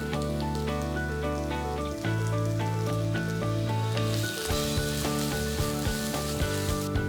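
Capsicum sautéing with salt in a pan while cooking drumstick flower rice: a soft, steady sizzle that grows more prominent in the second half, under continuous background music.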